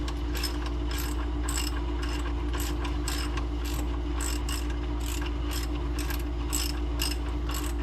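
A socket wrench ratchets steadily on a 1979 Corvette, giving a fast, even run of close clicks over a constant low hum.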